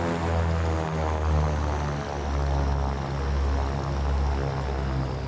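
Propeller aircraft engine throttled back to a steady 1000 RPM idle, a loud, close, continuous droning hum with a gently pulsing beat throughout, no voices.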